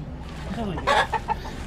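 Chickens at a poultry farm cluck in a few short, nearby calls that stand over a low background hum. A voice is faintly present beneath them.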